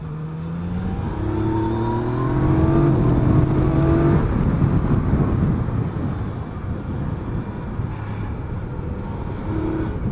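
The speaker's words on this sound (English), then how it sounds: "there's like a pop to it, which I don't get on the standard exhaust" Yamaha Niken three-wheeled motorcycle with an aftermarket exhaust accelerating on a road, a loud, steady engine drone with rising tones over heavy wind rush, close to the rider throughout.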